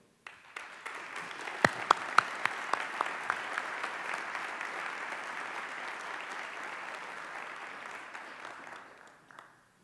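A university campaign celebration audience applauds to welcome a speaker to the podium, with steady, full hand-clapping that starts abruptly, holds for several seconds with a few sharper claps near the front, then fades out.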